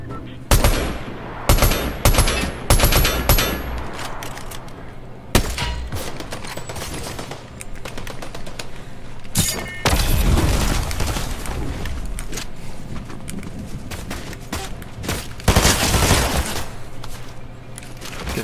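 Heavy video game gunfire in a squad shooter, with rapid automatic bursts, single shots and booming impacts arriving close and loud in repeated clusters across the whole stretch.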